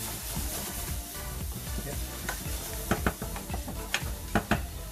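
Finely chopped jalapeno chilies frying in a pan for chilli con queso, a steady close sizzle broken by occasional stirring scrapes and knocks of a utensil against the pan.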